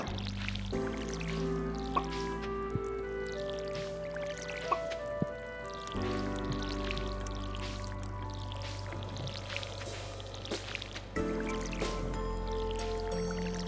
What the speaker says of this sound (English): let's water these plants